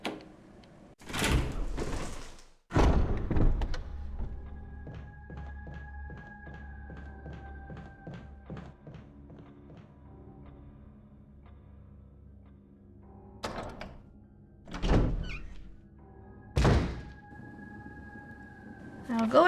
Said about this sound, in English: Now going through this door is going to bring us into this hallway here